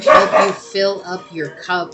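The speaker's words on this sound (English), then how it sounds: "It's just we never tell when they're going to bark." Indoor dogs give a few quick yips and barks in short bursts, close and loud, overlapping a person speaking.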